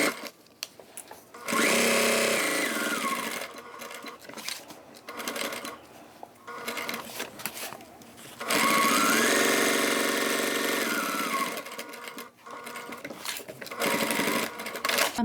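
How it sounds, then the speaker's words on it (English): A sewing machine stitches fabric for a bag's welt zipper pocket, running in three loud, steady whirring passes separated by brief pauses. "Then we sew around the rectangle."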